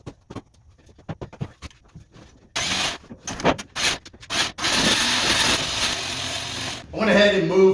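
A 12,000 lb winch installed on a garage floor runs and pulls in cable, giving a loud, steady mechanical whir that starts after a few quiet seconds, pauses briefly, then drones on and ends with a higher whine.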